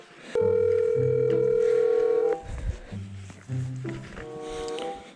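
A phone ringback tone sounds clearly for about two seconds, followed by shorter tonal beeps and bursts of electronic tones, close and distinct.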